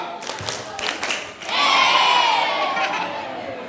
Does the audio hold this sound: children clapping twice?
yes